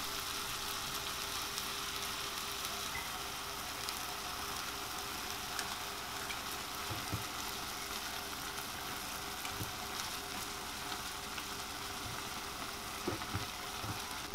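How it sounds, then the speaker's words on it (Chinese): Canned tomatoes sizzle in a hot pot of borscht with beef and peeled tomato chunks. The sizzle is soft, steady and crackling, with no talk. "接着加入一罐那个罐头番茄"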